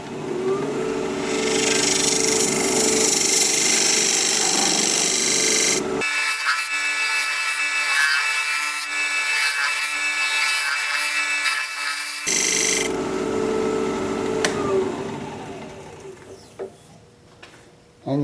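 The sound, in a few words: dovetail recess tool cutting cherry plum wood on a lathe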